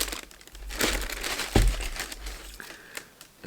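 Shoebox paper crinkling and rustling while a pair of Air Jordan Delta Mid x Union LA sneakers is unboxed, with close, irregular crackles, one sharper crunch midway and quieter rustles trailing off.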